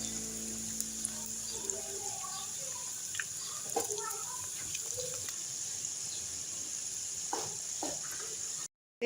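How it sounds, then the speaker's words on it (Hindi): Vegetable and chicken potli samosas frying in oil, a faint steady sizzle throughout with occasional light clinks and stirring, and someone speaking quietly over it. "ये देखिए मेरा सब हम इनको फ्राई करने लगे हैं अपनी पोटलियों को"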